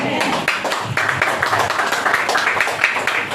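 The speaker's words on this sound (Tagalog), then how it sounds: "Yung mga pumalakpak kay El Shaddai, may magandang bahala yan darating paghihintay sa kanila" Congregation at a church healing service clapping, a dense run of sharp, fairly close hand claps with an uneven rhythm that continues throughout, voices mixed in underneath.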